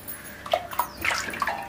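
Water is poured into a pot of chopped tapioca pieces before boiling, a short, close splashing and gurgling pour at moderate volume.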